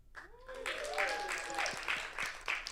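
Applause from an audience at a music contest results show, building behind a voice that speaks over the start and staying moderately loud to the end.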